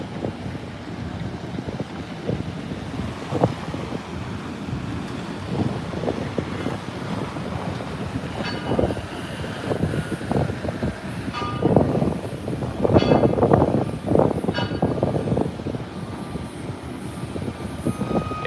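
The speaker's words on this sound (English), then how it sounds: "It is windy, that's for sure." Strong wind at the SpaceX Starbase launch site in Boca Chica, Texas, roars across the microphone in continuous gusts, with heavier buffeting toward the end and no talk.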